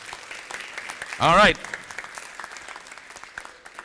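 An audience at the UWI St. Augustine campus in Trinidad applauds for Trinidad and Tobago, with scattered, fairly quiet clapping running throughout and a voice briefly speaking near the start.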